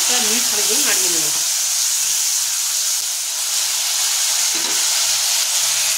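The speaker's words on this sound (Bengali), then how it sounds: "যোগ করার পর আমরা মিনিট খানিক ধরে ভালোভাবে নাড়িয়ে নিয়েছি হাতার খুন্তি দিয়ে।" Chopped tomato and jackfruit being stirred in a hot pan with a ladle, a loud, continuous hissing sizzle close by, with a brief muffled voice-like tone at the start.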